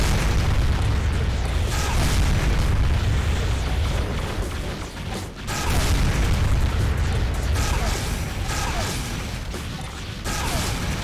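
Blind shooting in the Armored Core 2 Another Age mech game on PS2, a dense run of loud booms, bursts and explosions with mechanical clatter and a short dip partway through.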